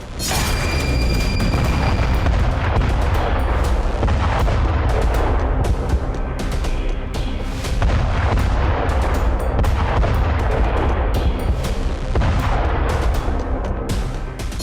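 A Russian FOAB bomb striking Ukraine produces a massive, sustained roaring rumble that stays loud and dense throughout, like a continuous blast wave with crackling debris.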